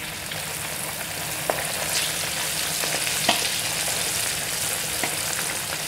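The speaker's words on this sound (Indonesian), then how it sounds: "sekarang ikan yang sudah dimarinasi kita goreng ya" Marinated fish frying in very hot oil, a dense steady sizzle and crackle with occasional sharper pops and spatters, close and continuous without talk.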